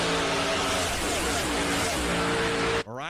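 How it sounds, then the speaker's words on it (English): NASCAR race car engines roaring loudly at a race, a dense sustained mechanical blare with harmonic whine that cuts off abruptly near the end, followed by a brief fading pass. "The reason we come to these races is for the loud engines."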